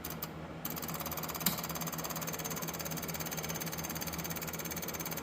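An electric fuel pump on a plot combine primes the fuel filter with a steady, rapid buzzing rattle that runs unbroken and close, with one small knock early on.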